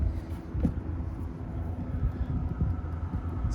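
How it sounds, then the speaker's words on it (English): Cars pass on a nearby road during an outdoor on-site repair, with wind buffeting the microphone; a steady, loud low rumble runs throughout with no speech. "excuse the wind and road noise"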